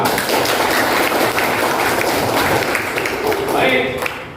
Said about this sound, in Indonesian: Iya, tepuk semua.